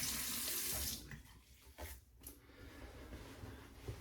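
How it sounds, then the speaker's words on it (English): A tap runs steadily into a sink while an alum block is rinsed during a straight-razor shave, a close, loud rush of water that eases and shifts as the block moves under the stream. "Oh, better rinse out that alum."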